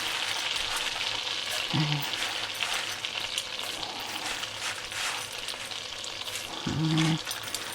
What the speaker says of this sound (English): So we just need to melt that off.